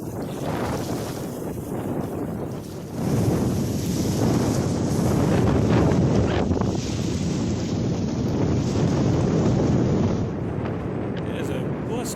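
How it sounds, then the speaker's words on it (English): Strong gusty wind sweeps across the shore of Lake Stanley Draper and buffets the microphone in a dense, loud rushing roar that grows heavier after the first few seconds. "That wind is just picking up something fierce."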